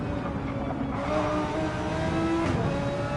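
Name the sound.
race car engine revving in racing video game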